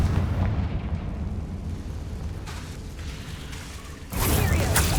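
A Confringo fire-blast spell from the Hogwarts Legacy video game, heard as a sustained rumbling blast that fades, then a sharp loud burst erupts near the end, close and forceful with no talking.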